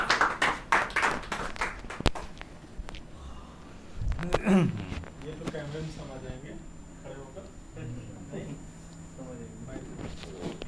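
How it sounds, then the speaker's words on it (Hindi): An audience at an Urdu poetry mushaira claps to welcome a poet, a burst of close, rhythmic applause that fades after about two seconds, then someone speaks over a quiet hall. "ज़ोरदार तालियों से जावेद सिद्दीकी का इस्तकबाल"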